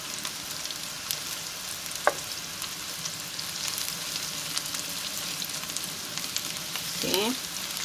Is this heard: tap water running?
no